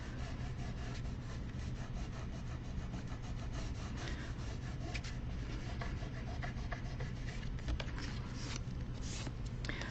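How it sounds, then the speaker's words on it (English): Hand rubbing mess off a craft project, a steady, close, scratchy rasping that continues evenly throughout without pauses or talking. "I'm going to rub off all the mess that I just made."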